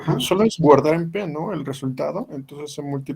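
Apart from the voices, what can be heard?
None of the usual background noises is heard.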